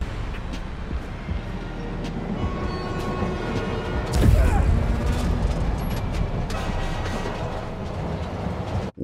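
Train in a Spider-Man video game, a steady rumbling roll throughout with a loud crashing impact burst near the middle, then continued rolling noise.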